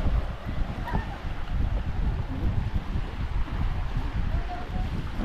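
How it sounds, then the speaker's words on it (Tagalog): Gusty afternoon wind blows outdoors near open water, a moderately loud, uneven rumble that swells and eases with scattered faint splashes, no voices standing out. "May talagang may hangin-hangin paghapon nan eh."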